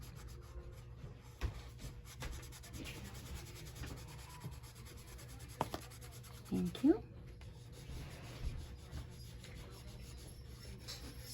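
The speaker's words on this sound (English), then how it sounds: "I think I need to sharpen my pencil a little bit." A pencil is sharpened, with soft, rasping rubs at close range and a few louder scraping bursts set against low, steady room noise.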